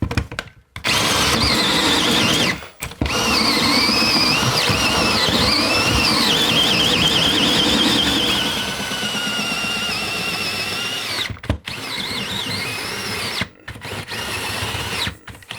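Loud power drill whirring as it bores through a frame during a bathroom renovation, several long bursts with short pauses between, the motor pitch wavering under load.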